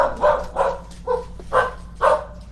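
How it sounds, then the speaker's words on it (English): A dog barks from nearby, five or six short, muffled woofs in a steady rhythm at moderate volume, with no talk over it. "and then the dogs go off"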